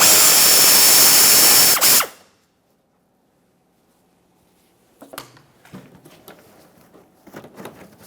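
Ratchet removing a T15 fastener on a 2017-2024 GMC Acadia bumper, a loud sustained whirring burst that cuts off abruptly, followed after a pause by scattered light clicks and handling noises.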